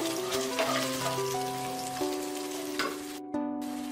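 Onions frying in a pan for Bengali bhuna khichuri give off a steady, close sizzle that runs throughout, with sustained tonal music layered over it.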